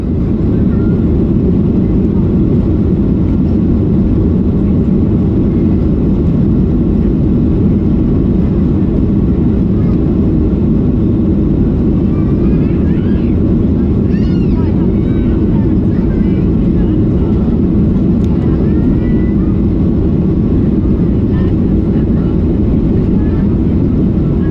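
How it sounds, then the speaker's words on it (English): A TUI Boeing 737-800 jet on its takeoff run, a loud, steady broadband engine roar heard from inside the cabin, holding constant for the whole stretch with only faint traces of other sounds. "I'll shush so that we can listen to the takeoff."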